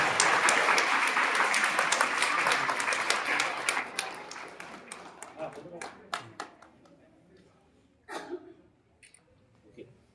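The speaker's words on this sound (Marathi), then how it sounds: "सगळ्यांनी जोरदार टाळ्या." Loud applause at a karate trophy ceremony starts as a dense burst of clapping, then thins into scattered individual claps and fades out, with a voice speaking near the end.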